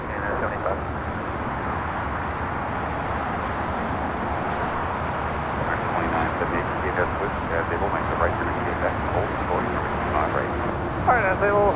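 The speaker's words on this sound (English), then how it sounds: "This is United Airlines 1621 taking off to Orlando on a 737-800" A United Airlines Boeing 737-800 takes off at LAX, its engines a broad, steady rumble from some distance that holds for several seconds amid airport background noise.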